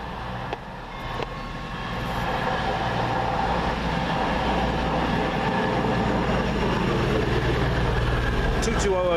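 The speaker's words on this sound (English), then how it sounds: "Just now coming in the 1225 cross-country service from Reading to Newcastle" A cross-country passenger train from Reading to Newcastle rumbles steadily into Banbury station, a low mechanical drone building and holding, with brief squeals and clanks near the end.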